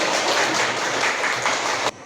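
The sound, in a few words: applause, clapping hands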